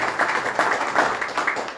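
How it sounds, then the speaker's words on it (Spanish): An audience applauds at a literary event, giving a continuous wash of many hands clapping at moderate distance, fairly soft and even throughout the short stretch. "Un aplauso para..."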